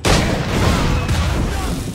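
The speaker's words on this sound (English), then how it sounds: "I apparently stood in my own explosion" A loud booming explosion in the video game Assassin's Creed IV Black Flag bursts at once and rumbles on for about two seconds, heavy and broadband with no talk over it.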